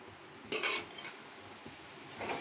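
A spoon stirs brinjal and chana dal masala curry in a pan, giving a few soft scraping strokes over a faint, low sizzle, with a short gap between stirs.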